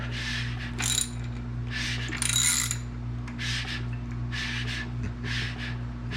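The bottom end of a Nissan 240SX KA24DE engine is turned over by hand during assembly, with the piston skirts lubed. Short bursts of mechanical clicking and ratcheting recur over a low, steady hum.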